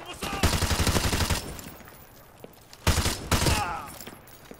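Automatic gunfire in a Call of Duty game comes in two loud sustained bursts separated by a short lull, close and heavy, with game ambience in between.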